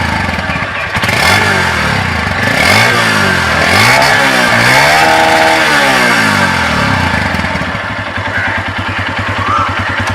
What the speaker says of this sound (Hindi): ये इस बाइक की इडल वॉइस है, अभी बाइक इडल कर रही है। और अगर हम इसको रेव करें थोड़ा सा